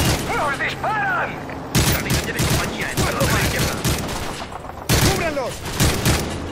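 Gunfire in the Call of Duty Modern Warfare 3 mission Tierra Calcinada, with loud, rapid bursts of automatic fire and heavy booms from a battlefield. Shouted voices and radio chatter run over the shooting throughout.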